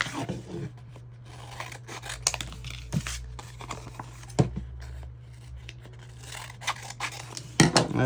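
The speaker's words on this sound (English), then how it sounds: "I'll just cut some more of the transfer paper here." Scissors snip through transfer paper for a Valentine's Day craft, a run of close, crisp cuts and rustles repeating unevenly over a low steady hum, with soft handling noises between the snips.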